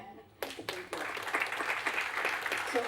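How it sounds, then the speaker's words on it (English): Applause breaks out at a business conference after a moment of quiet, a few sharp claps first, then steady clapping from a crowd that carries on to the end. "That deserves an applaud, no?"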